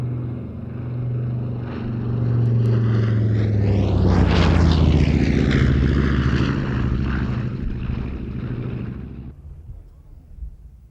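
Bomber in RAF markings flying at an air show, its propeller engines roaring as it approaches, passing overhead in a loud sweep, then fading away into the distance.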